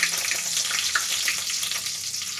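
Cumin and mustard seeds spluttering in hot oil in a pan for uppittu, a close, continuous sizzle flecked with quick popping bursts.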